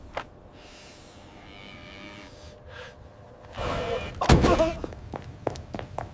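A cow moos as a python attacks it, a few loud calls rising over a low rumbling background, with sharp bursts and commotion building toward the end.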